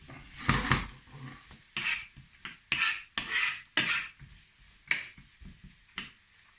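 Onions and garlic saute in a pan while a utensil clinks and scrapes against it in irregular bursts, with a faint sizzle between the stirring strokes.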